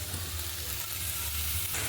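Tomatoes fry in a pan, giving an even, hissing sizzle that holds steady for the whole moment and fades slightly near the end, close by with no voices.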